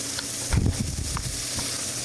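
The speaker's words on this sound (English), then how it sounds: "We're just crispy frying it without deep frying it. Right on top of the stove here." Lobster crisp-frying in a pan on top of the stove sizzles steadily and close, with a brief louder burst of stirring or shifting partway through and no talking.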